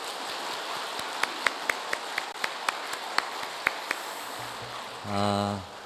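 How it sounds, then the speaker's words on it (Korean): Church congregation at a New Year's Eve service applauding the choir, with scattered individual claps popping out over a soft background of clapping, ending in a low tonal swell as the applause fades. "우리 큰 박수 한번 하겠습니다"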